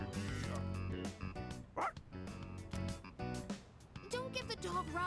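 Koromaru, the dog in the video game Persona 3 Reload, lets out a short whimper and soft yips over game music and dialogue.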